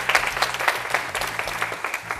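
Audience applause at a French youth-association broadcast event, a dense, steady wash of many hands clapping close by, filling the moment without talk.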